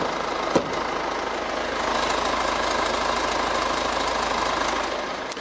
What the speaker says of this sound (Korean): 엔진 소음 먼저 들려드리면은 짜랑짜랑한 엔진 소음 기대를 하실 수가 있고요